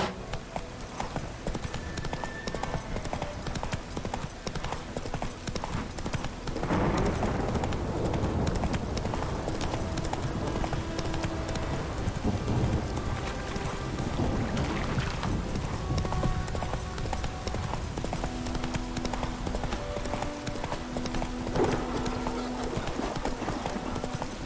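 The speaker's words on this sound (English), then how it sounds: "Run, Roach" Horse hooves clip-clop steadily at a gallop in The Witcher 3: Wild Hunt, next-gen PS5 version, with a brief whinny and game music and ambience underneath throughout.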